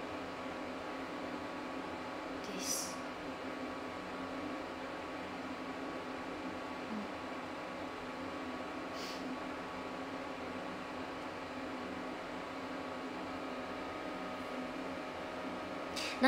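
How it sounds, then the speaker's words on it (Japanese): A steady ventilation fan hum fills the background without change, a low even whir with faint airy noise and a few brief clicks. "音、これ多分換気扇の音"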